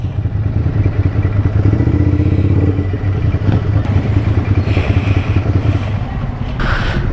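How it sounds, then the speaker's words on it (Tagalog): Ducati Scrambler motorcycles rumble with low engine noise in a crowded parking area at a group ride, with occasional clatter and thuds close by and no talk. "So dito po tayo pumarada sa scrambler section at medyo marami ng motor nandito."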